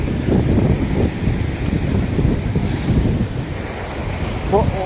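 Sea waves washing in at a beach in Goa, a continuous rushing surge with wind buffeting the microphone, close and fairly loud, with faint voices in the background.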